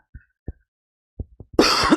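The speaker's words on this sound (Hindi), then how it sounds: "बार बार खांसी आ रही, सॉरी।" A person coughs in short, separate bursts, four quick dry coughs spaced apart, then a longer, harsh, loud cough to finish, close to the microphone.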